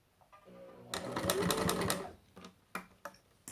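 A sewing machine stitching fabric for a trapezoid bread basket runs in a short close burst of rapid mechanical needle clatter, followed by a few scattered clicks and handling sounds, with a soft voice faintly underneath.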